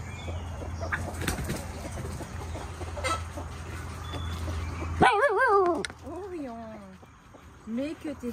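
A dog barks in short bursts among clucking chickens and fowl in a farmyard, with flapping wings and a person talking nearby.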